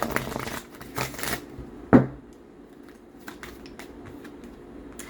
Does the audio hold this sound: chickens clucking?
no